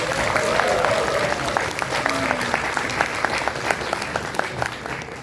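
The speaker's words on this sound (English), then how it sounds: "let's show some appreciation with a round of applause for the contestants" Audience applause for the contestants of a poster painting competition at a World Tuberculosis Day event in Nagaland, a dense, continuous clapping from a crowd lasting the whole stretch at even loudness.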